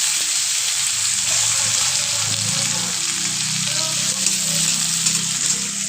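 Chopped tomatoes frying in hot oil for an egg and potato curry, a dense, continuous sizzle close up and fairly loud, with faint background hum and no speech.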